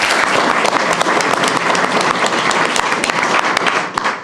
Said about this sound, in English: So a little round of applause for Jamie